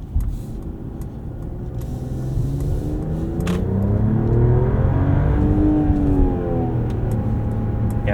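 A 2024 Mercedes-Benz E450 4MATIC sedan with an inline-6 accelerates in sport mode, its engine note rising steadily in pitch and loudness as revs climb, heard from inside the cabin.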